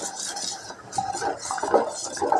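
A spoon stirs and scrapes a pot of thickening food while cooking, with quiet repeated clinks and scraping sounds close by and no voices.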